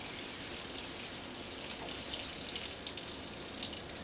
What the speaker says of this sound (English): so I pour it a little bit slower and a little bit lower